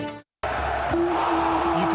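Broadband crowd roar at a televised athletics-style sporting event, loud and sustained after a brief silent gap, with a tonal hum running underneath.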